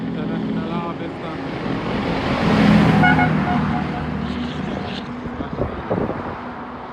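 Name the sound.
International Harvester 9900i truck driving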